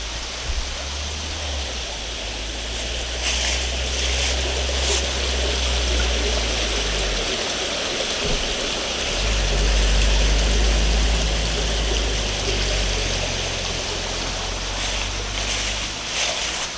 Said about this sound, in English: So we've got this stream comes down here,